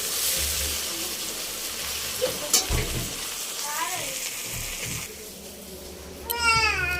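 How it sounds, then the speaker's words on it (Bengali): Prawns fry in a pan in a home kitchen, with steady sizzling and a few stirring scrapes. A voice and brief talk rise over it toward the end. "চিংড়ি মাছটা এবার ভেজে নিচ্ছি।"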